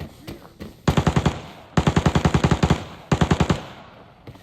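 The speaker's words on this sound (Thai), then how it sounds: "ฟังจากเสียงการยิงนี่เหมือนคนเลยนะครับ" Rapid automatic rifle fire in the shooter game Arena Breakout, three loud close bursts of evenly spaced shots separated by short pauses.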